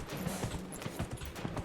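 A horse in Dragon Age Inquisition gallops in a quick, steady rhythm of thudding hoofbeats, close and moderately soft, with no other prominent sounds.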